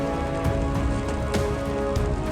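Steady icy sleet rain pours onto mountain trails, a dense, continuous patter of drops hitting the surface, loud and close with no voices.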